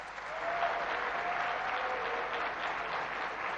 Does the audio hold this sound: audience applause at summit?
yes